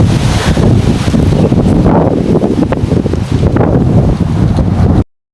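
Strong wind roars continuously across the microphone outdoors, loud and buffeting with gusty surges over the whole stretch, no voice heard, then cutting off abruptly at the end.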